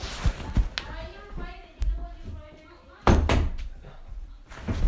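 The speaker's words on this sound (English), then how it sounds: "Close the door." A door in a room bangs shut among several sharp knocks and handling thumps, with a heavier closing impact partway through and muffled talking and movement around it.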